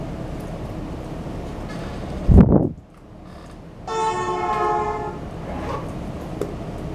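A train rumbles past in a steady roar with a heavy thump midway, then a sustained horn blares for about a second amid ongoing rail noise.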